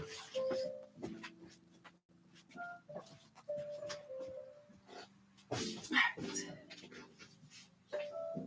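Dogs bark and yip intermittently indoors, fairly faint and scattered across the stretch, with whining tones and small clattering sounds between the barks.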